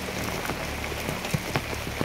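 Rain falls in a rural sitio, a steady close hiss of drops with occasional louder individual patters striking a surface, continuous and without voices.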